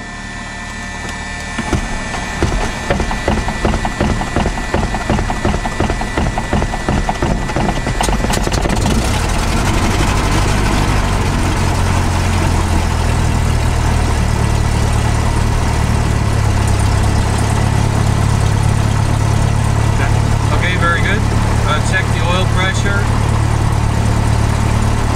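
A Cessna 172 light aircraft engine cranks over with a run of rapid starter pulses, then fires and settles into a steady, loud, rumbling idle that continues throughout.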